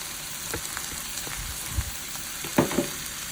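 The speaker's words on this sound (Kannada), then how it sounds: "ಈಗ ಆವಾಗಲೇ ಬೇಯಿಸಿ ಸಪ್ರೇಟ್ ಮಾಡ್ಕೊಂಡಿದ್ದಂಥ ಕಾಳು ಮತ್ತು ಸೊಪ್ಪನ್ನು ಹಾಕ್ಕೊಳ್ತಿದ್ದಾನೆ" Cooked legumes and greens tipped into a hot frying pan for a Karnataka dish, giving a soft steady sizzle with a few brief clatters and stirring knocks, close and fairly quiet, with no voices.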